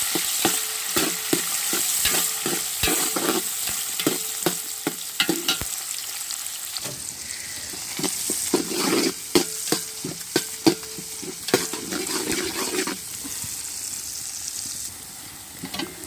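Onions, tomatoes and green chillies sautéing in a pan for coconut milk rice: a steady close sizzle broken by frequent sharp scrapes and clicks of a spoon stirring against the pan.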